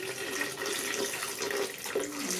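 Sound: water being added before blending

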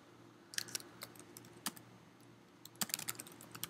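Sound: typing on computer keyboard

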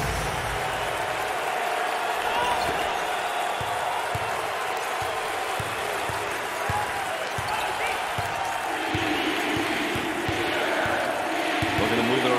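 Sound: basketball crowd cheering at a college game

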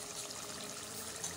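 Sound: pouring a little water into chicken karahi

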